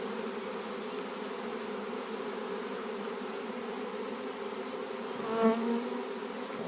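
A swarm of honey bees hums as a dense, continuous buzz, steady and close. A single bee swells briefly louder near the end.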